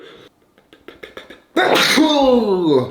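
A person sneezes once, loud and close, after sniffing a kebab-flavored spice seasoning. The burst follows a few soft clicks and quick intakes of breath, and the sneeze trails off into a voiced exhale.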